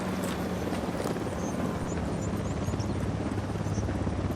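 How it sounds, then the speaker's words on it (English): A helicopter approaches in the video game Ghost Recon Wildlands, a steady, loud rotor drone with whooshing wind-like noise throughout, with no speech. "Helicopter inbound."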